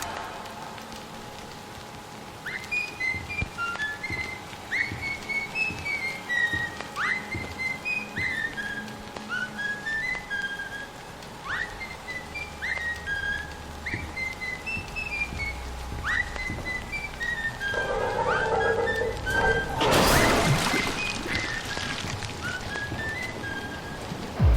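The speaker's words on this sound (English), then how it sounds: "It's just a simple whistling. It's just whistling." A simple whistled melody of short rising and falling notes from the Bendy cartoon music in Bendy and the Ink Machine repeats steadily, with a soft hiss underneath and a brief noisy burst near the end.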